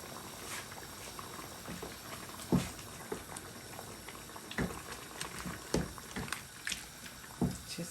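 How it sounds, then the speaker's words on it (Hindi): Yogurt for a shahi chicken korma bubbles and spatters gently in a pan, with a soft continuous simmer broken by occasional wet pops and thumps. "अब इसको डाल के थोड़ा सा भूनूंगी।"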